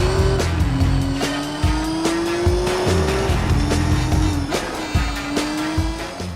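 Race car engine from Gran Turismo 4 on the narrow Città d'Aria street circuit in Assisi, Italy, revving loud and close with repeated upshifts and dips in pitch, plus brief tire squeals, over game music.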